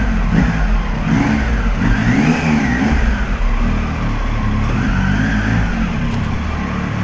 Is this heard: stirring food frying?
no